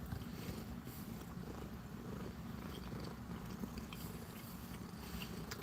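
A cat purrs close by, quiet and continuous, a low rumbling pulse with faint chewing or smacking sounds mixed in, no voices.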